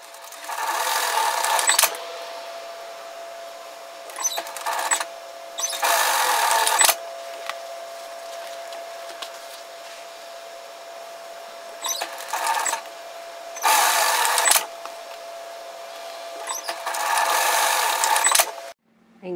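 Sewing machine stitching the outer and inner seams of sun hat brim pieces placed right sides together, running in several loud bursts of rapid stitching separated by quiet pauses.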